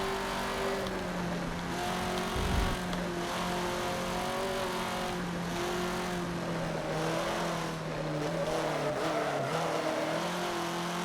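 An off-road buggy engine in Forza Motorsport 7 drones steadily under constant acceleration, a loud, continuous motor tone with slight pitch shifts and a brief low thump partway through, no voices.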